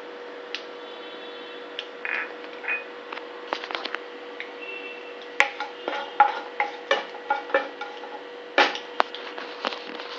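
Hing and cumin seeds crackling in hot oil for tomato chutney, scattered sharp pops and ticks that start sparse and become denser and louder, with a faint steady hum beneath.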